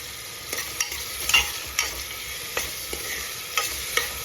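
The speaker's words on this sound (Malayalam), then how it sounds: "വെളിച്ചെണ്ണ ഒന്ന് ചൂടായി കഴിയുമ്പോൾ നമുക്കതിൻ്റെ അകത്തോട്ട് 2 സബോള അരിഞ്ഞത്" Two sliced onions fry in hot coconut oil for a Kerala-style beef roast, a steady soft sizzle broken by a spoon stirring and tapping the pan every half second or so, close by with no voices.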